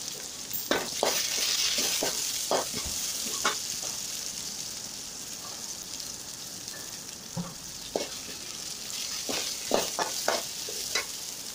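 Chopped onion, ginger and green chilli fry in oil in a pan with curry leaves, giving a continuous sizzle broken by sharp scraping stirs of a spoon against the pan. No one speaks.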